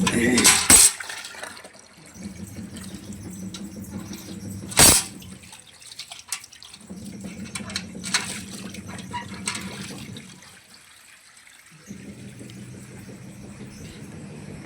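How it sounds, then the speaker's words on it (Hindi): Household dishwashing with water being filled: bursts of clattering utensils and splashing, with running water that starts and stops in long stretches, close by. "और ये मांजूंगी बासन। पानी भरना है भाई।"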